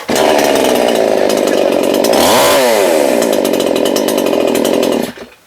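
A red petrol chainsaw with a 22-inch bar fires up on one pull and runs loud and steady close by, its engine note rising and dipping once as the throttle is blipped before cutting out at the end.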